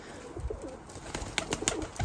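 Soft Modena pigeon coos repeat a few times at close range, low and throaty, with faint rustling and no talking.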